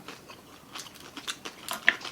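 Someone bites and chews crispy homemade Filipino street food close to the mic, giving a series of soft, irregular crunches that grow a little sharper toward the end, with no talking.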